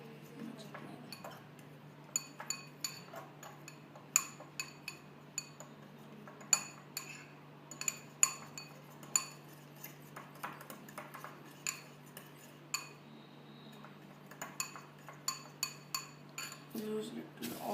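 A spoon knocks and clinks against a bowl while pizza tart batter is mixed, giving irregular sharp taps over about eighteen seconds beneath a faint steady hum, near and fairly quiet.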